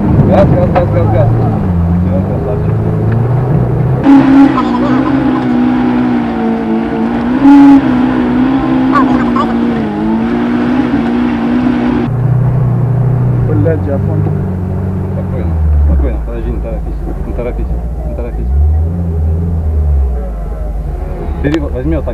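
A Lada Niva works off-road while someone shouts urgent commands over it. The engine rumbles and revs in surges under the loud voices, with a low, drawn-out growl in the later part.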